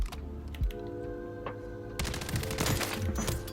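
FJX Horus submachine gun fire in Modern Warfare 3 gameplay, a rapid rattling burst of close shots that grows louder and denser in the second half, with keyboard-like clicking mixed in.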